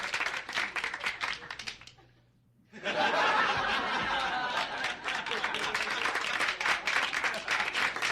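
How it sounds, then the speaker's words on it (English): A crowd applauds loudly with laughter mixed in, the clapping breaking off briefly into near silence before surging back even stronger and continuing steadily to the end. "those applause just keep coming"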